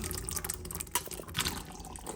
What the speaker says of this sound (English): I'm going to drain both of these and then rinse it until I get rid of all the water